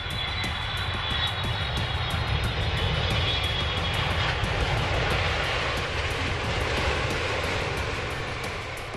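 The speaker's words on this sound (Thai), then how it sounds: "เสียงของเครื่องบินที่กำลังบินอยู่บนท้องฟ้านั่นเองค่ะ" Steady roar of an airplane engine overhead, loud and sustained with a broad whooshing hiss, holding nearly constant for several seconds.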